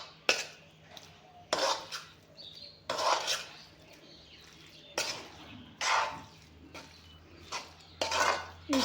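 Amla pickle being mixed with olive oil in a pan, heard as close, repeated scraping and clinking strokes about every second or so, with quiet pauses between and no talking.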